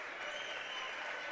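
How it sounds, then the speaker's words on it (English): At a high school boys' tournament basketball game, a gym crowd gives a player a half-standing ovation, with steady applause and clapping rolling on without pause throughout. "he'll get a nice half-standing ovation here from the crowd"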